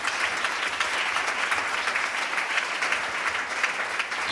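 A church congregation applauding during a worship service, sustained dense clapping from many hands at a moderate distance, even and continuous throughout.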